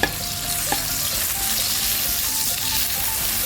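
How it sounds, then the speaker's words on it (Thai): Shiitake mushrooms fry in a hot wok with garlic, a steady close sizzle with brief sharp crackles and a few clinks of a utensil. "เอาเห็ดหอมลงไปเจียวค่ะ"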